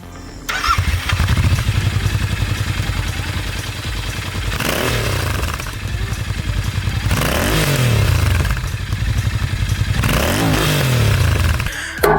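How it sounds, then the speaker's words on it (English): A Royal Enfield Continental GT 650 scrambler with an aftermarket exhaust idles with a throaty rumble, then revs in several sharp bursts that rise and fall, close and loud. "It's definitely louder than the stock pipes"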